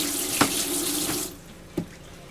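Water streams steadily from an Ambassador faucet into a high-polished galley sink aboard a 30 ft sailboat, a close, continuous hiss that stops abruptly partway through, followed by a couple of faint clunks.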